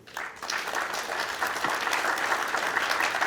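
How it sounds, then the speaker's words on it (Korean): A crowd applauds at a 2024 plenary meeting of the Gyeongbuk provincial committee backing the Daegu-Gyeongbuk airport, with clapping swelling quickly from near silence into steady, sustained applause. "이분들에게 박수 한번 보내주십시오."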